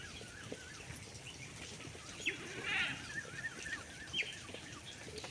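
A goat bleats faintly once or twice in the distance on a farm at watering time, soft wavering cries over a steady low background hiss with no talking.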